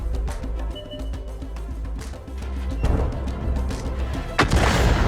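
Tank cannon fire in World of Tanks, a game battle with booming shots over a steady engine and game rumble, ending in a sharp loud blast near the close.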